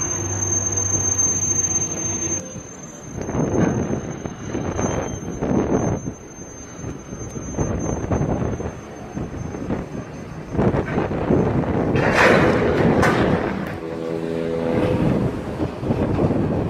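81 class locomotive 8118 pulls into a rail yard at Cringila, giving long metallic wheel squeals and flange screeches over a rumbling engine and wind buffeting, building louder toward the end.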